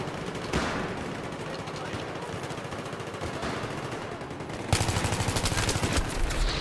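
Rapid automatic gunfire in Battlefield 3, with bursts of rattling shots throughout and a sharp, louder stretch of sustained fire near the end over the game's constant battle noise.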